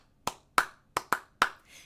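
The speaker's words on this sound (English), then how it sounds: "If you love your mommy, clap your hands." Five sharp hand claps in a loose, uneven rhythm, close and fairly soft, with no talking.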